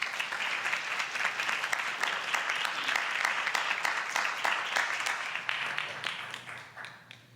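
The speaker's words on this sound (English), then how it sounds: "Nice round of applause for our new board members." A room full of people at a school board meeting applauds new board members steadily for several seconds, the clapping tapering off toward the end.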